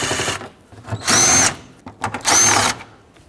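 A power drill drives bolts into a 2007-2009 Saturn Aura washer fluid tank in two loud, close bursts of whining spin, each about half a second long, separated by clanks and handling noises.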